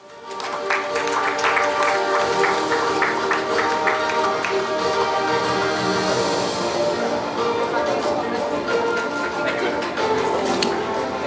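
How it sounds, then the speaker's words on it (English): Sustained applause from an audience at a conference awards ceremony, a dense steady patter of many hands clapping for an award winner, loud and continuous throughout with some voices mixed in. "Let the applause continue to this achievement, everyone."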